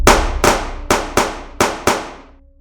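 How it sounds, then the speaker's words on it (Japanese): Six sharp gunshot sound effects fire in an uneven rapid burst, each a loud, abrupt crack with a short decaying tail, ending with a faint lingering ring. "容疑者に、発砲しました"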